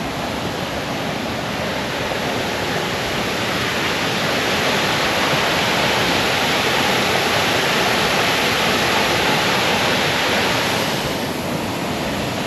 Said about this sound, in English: And this is the viewing platform for the waterfall.